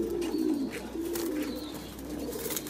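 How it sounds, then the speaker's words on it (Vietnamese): Several low, repeated coos come from pigeons tending their young in a commercial pigeon farm, close and continuous, with soft background chirps and a constant low hum. "bồ câu đang nuôi con đấy anh em."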